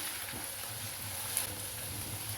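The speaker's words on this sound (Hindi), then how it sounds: "इसे भी हम प्याज के साथ अच्छे से फ्राई कर लेंगे।" Onion and ginger garlic paste fry in a pan for chicken pulao, giving a soft, steady sizzle at low level with occasional faint stirring, with no talk.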